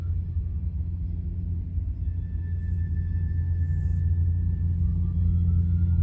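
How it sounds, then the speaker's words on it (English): A Freightliner Cascadia truck rolls along the I-84 freeway, a steady low rumble of engine and tire noise holding at a constant level throughout, with a faint tonal whine in the middle. "We got a Cascadia rolling down now."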